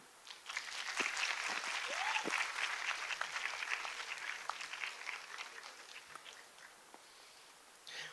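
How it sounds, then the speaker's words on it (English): An audience at a TEDx talk breaks into applause, building quickly into steady clapping with a brief whoop early on, then gradually thinning out toward the end. "A huge round of applause for Miss Sanika"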